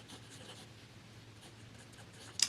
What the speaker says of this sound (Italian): Pennino F, come vedete può scrivere in piccolo